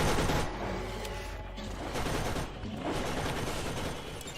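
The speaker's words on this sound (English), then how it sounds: "I will just drop my turret right here." A deployed turret in Borderlands fires rapid, continuous bursts of gunfire, loud and close, with a dense fusillade of shots rolling on without pause.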